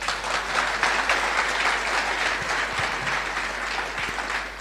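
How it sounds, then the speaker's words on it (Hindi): Audience applause at a motivational speech event, a dense sustained burst of many hands clapping together, loud and steady throughout. "कुछ समझ में आया तो ताली बजनी चाहिए"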